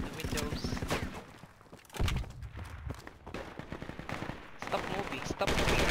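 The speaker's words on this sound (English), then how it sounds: "They are now shooting at the windows." Rapid bursts of automatic gunfire in Project Reality, fired at the windows of a mosque, crack loudly and repeatedly across the whole stretch, with voices talking underneath.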